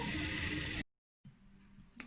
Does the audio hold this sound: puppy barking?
no